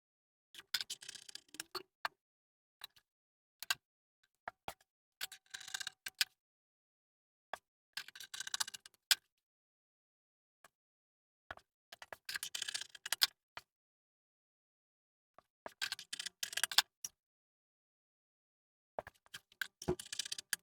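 Yellow Aso Oke fabric being cut into pieces for the back of baggy cargo trousers, with bursts of crisp scissor snips in short clusters separated by quiet pauses, close and fairly faint.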